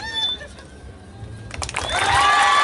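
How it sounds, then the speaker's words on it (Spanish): An audience at a live stand-up comedy show bursts into loud cheering and shouting partway through, swelling into a sustained crowd roar after a quieter start. "Aplauso para Figurita, perdió."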